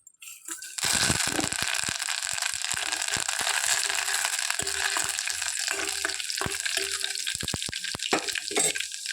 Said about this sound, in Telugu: పోపు గింజలు కొంచెం వేగినాక ఉల్లిపాయలు వేసుకోవాలి